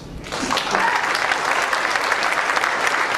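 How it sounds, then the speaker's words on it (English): Audience applause at a church anniversary celebration and installation ceremony, a dense, steady wash of many hands clapping that swells in after a brief quiet start and holds loud and even throughout. "A round of applause"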